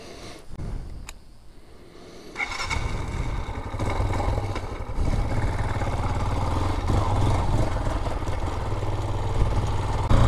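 A Raven BSR250 enduro motorcycle ridden on the road, its mid-pitched engine droning steadily and close after a quieter start, with rattles and road noise layered in.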